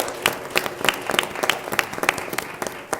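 An audience at a school board meeting applauds student scholars with steady, dense clapping that lasts throughout.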